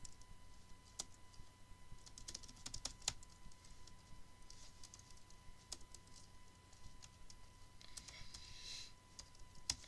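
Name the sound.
typing an email on a computer keyboard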